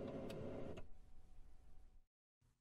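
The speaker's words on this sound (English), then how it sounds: "The printer turns on and then starts the initialization process." An HP Color LaserJet Pro M155/M255 series printer powering on and initializing gives a steady mechanical whir with a brief click, then a softer, fading motor hum before it briefly stops and restarts.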